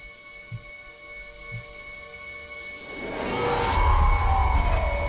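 Rain in the video game Hyper Light Drifter builds from a quiet hiss with a couple of soft thuds into a louder, dense rushing patter over the second half.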